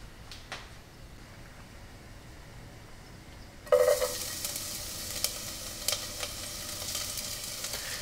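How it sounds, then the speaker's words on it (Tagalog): Minced garlic dropped into hot oil in a pan for pork monggo, with quiet room tone giving way to a sudden steady sizzle that carries on close and bright with small crackles, and no talking. "At ilalagay na natin dito yung bawang para igisa."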